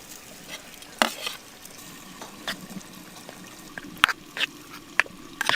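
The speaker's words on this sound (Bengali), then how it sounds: "ভালো করে মিশিয়ে নেব" Chicken being stirred through a tomato paste ground with cashews, dried chillies and Kashmiri chilli in a clay pot, with faint scraping and soft wet clinks, a few sharper knocks of the spoon against the pot.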